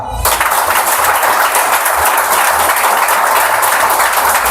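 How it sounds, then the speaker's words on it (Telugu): An audience claps loudly and continuously as a large crowd applauds, a dense wash of hand claps sustained throughout after a brief opening. "మీ చప్పట్లు కొర్నేలకు వినబడాలి కొట్టండి గట్టిగా"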